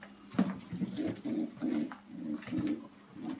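A Janssen-line pigeon coos softly in a repeated, rhythmic series of low murmuring calls, close but quiet.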